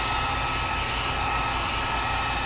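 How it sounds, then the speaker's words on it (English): A Warrior 1500 watt dual temperature heat gun blows hot air in a steady, loud, unbroken whoosh with a high whine, running alone close by for the whole stretch. "It's like a high-powered blow dryer."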